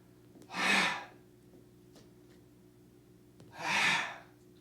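Deep, steady breaths during a kriya yoga exercise, two long forceful exhales a few seconds apart with quiet pauses and soft background hum between them.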